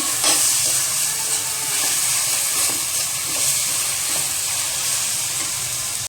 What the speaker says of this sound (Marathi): ती 1-2 ते 3 मिनटं कांदा आणि टॅमॅटो सोबत व्यवस्थित परतून घ्यायची, थोडी शिजवून घ्यायची